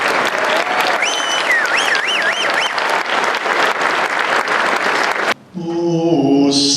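A convention crowd applauds steadily for military and first responders while whistles and a cheering voice rise over the clapping. It cuts off abruptly near the end and gives way to a sustained tone, like singing or music starting.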